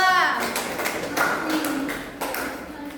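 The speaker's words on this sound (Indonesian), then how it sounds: "tepuk tangan dulu kepada kelompok 2" Schoolchildren in a third-grade class clap for a group, scattered taps and claps of uneven rhythm close by, mixed with children's voices and an adult talking.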